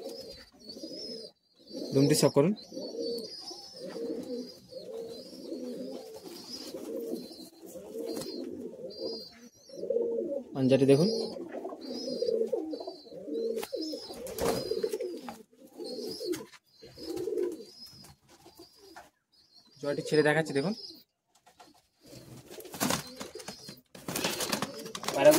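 Madrasi high-flying pigeons in a Kolkata loft coo in repeated low throaty bursts, close and steady, while people talk over them now and then and faint chirps come through.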